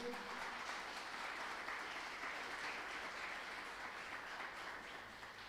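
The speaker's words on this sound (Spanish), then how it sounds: "Denle un fuerte aplauso al Señor si está conmigo." A church congregation claps together in a steady, sustained burst of applause that fades slightly toward the end.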